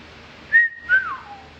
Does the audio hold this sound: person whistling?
yes